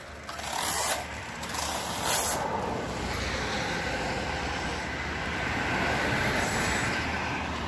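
Worn rear gear on a Team Associated Rival MT RC monster truck running on 4S, a continuous gritty whirring drone holding steady at close range, with a few louder surges near the start and no talking.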